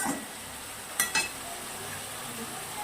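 Spice masala of ground cumin and turmeric frying in a pan on raised heat, a faint steady sizzle with two quick clinks of a utensil stirring against the pan.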